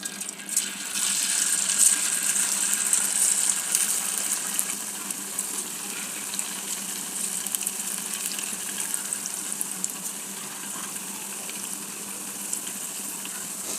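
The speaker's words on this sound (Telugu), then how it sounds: "ఇప్పుడు ఫ్రై చేసేద్దామండి" Ivy gourd pakoda batter fries in hot oil with a steady, dense bubbling sizzle, louder at first and then settling into an even crackle, with no talking.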